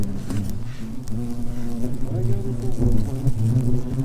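A large hornet queen drones with a low, steady buzz close by during a heavy hornet attack, the wingbeat hum wavering in pitch as she moves, with a voice speaking over it.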